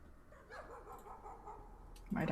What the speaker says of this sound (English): That's not my dogs, that's coming from the game.